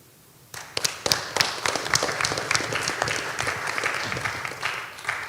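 An audience at a town hall meeting on gun violence breaks into applause for youth speakers, a burst of dense, lively clapping that starts suddenly and carries on steadily to the end.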